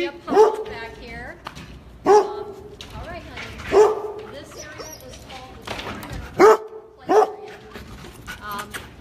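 Several dogs bark in short bursts at a pet daycare, about five sharp barks spread over several seconds, close and loud, with a person talking throughout.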